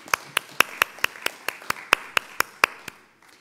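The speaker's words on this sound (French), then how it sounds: "On peut les applaudir." A single person claps about a dozen sharp, evenly spaced times at a French municipal council meeting, each clap crisp and close, ending in quiet after about three seconds.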